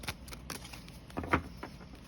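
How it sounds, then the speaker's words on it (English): Tarot cards being shuffled by hand during a love reading: soft, close riffling and papery flicks in short irregular bursts, fairly quiet with no talk over them. "Shuffle these, see if anything pops out."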